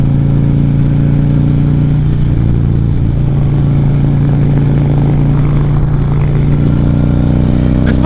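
A Harley Ultra Classic bagger with a 110 engine cammed up with S&S cams idles loud and steady throughout, its deep, even rumble filling the scene with no talk.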